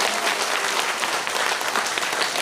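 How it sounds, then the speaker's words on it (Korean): Audience applause at a local party members' education meeting: steady, dense clapping from a crowd filling the room, continuous and fairly loud throughout. "처음 듣는 것처럼 박수도 막 해주셔가니까 너무 좋은 것 같아요"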